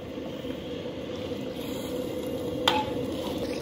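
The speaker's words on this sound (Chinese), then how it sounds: "下入五花肉" Pork belly chunks going into hot oil with caramelized rock sugar, a steady low sizzling and bubbling hiss that runs the whole time, with one brief clink near the end.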